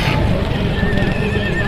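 A mare whinnies loudly and close at a horse market in Aminpur, a shaky high neigh over a busy outdoor background with hoof clatter.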